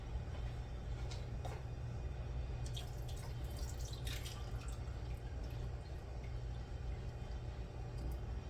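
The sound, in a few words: adding water to leftover dye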